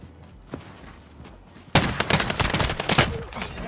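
Dense burst of Warzone gunfire erupting suddenly after a quiet lead-in, rapid overlapping shots and loud cracks continuing to the end, with a faint voice briefly in the background.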